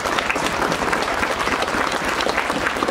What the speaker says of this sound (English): round of applause for Goodwood